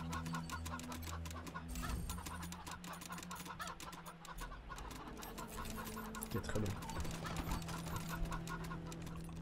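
Chickens cluck in Wasteland 3 amid busy, rapid rhythmic game sounds, and someone speaks briefly over them.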